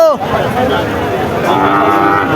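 Cattle at a busy cow market in Chaugachha, Bangladesh, with a calf on show, lowing in a drawn-out moo near the start while crowd chatter and voices carry on throughout.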